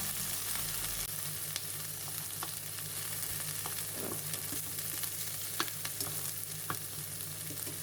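Steady frying sizzle as mushrooms are stir-fried in a pan, with occasional clinks and scrapes as they are stirred, no talking.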